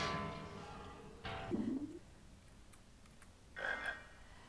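A frog croaks in the Harry Potter and the Chamber of Secrets video game, a few short, low, quiet croaks spaced apart over faint background ambience.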